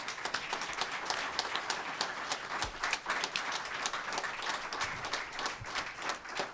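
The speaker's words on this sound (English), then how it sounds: "Would you please give a round of applause for the people of the People's Forum?" Audience applause at a reception for John and Gabriel Shipton, a dense, sustained round of clapping from a crowd that stays steady throughout.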